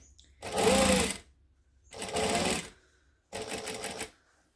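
Sewing machine stitching down fabric at a 3 3/4 stitch length, three separate bursts of steady mechanical whirring with short quiet pauses between them, close and clear.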